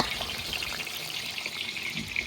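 Chicken wings frying in hot oil in a kazan, cooked in batches of about a kilogram, with a steady dense sizzle and crackle that holds at an even level throughout.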